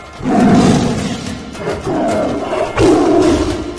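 Several loud, rough leopard roars in three bursts, used in a forest department warning announcement to villagers in a leopard-prone rural area of Konkan.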